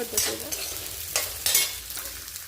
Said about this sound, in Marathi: दोन दोन भाज्या मी फ्राय करून घेते